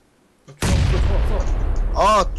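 Gunfire in a battle royale video game: after a quiet start, a sudden loud burst of close shots breaks out and continues, with a voice cutting in near the end.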